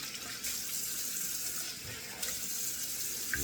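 Cold water running from a bathroom tap into a sink for splashing the face, a steady rushing flow with small splashes and handling noises, close and fairly quiet.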